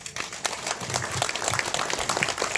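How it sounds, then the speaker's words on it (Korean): Brief applause from an audience at a legal and tax compensation briefing session, a scattered patter of clapping hands at moderate level, with a voice faintly mixed in. "박수 한번 보내시게요"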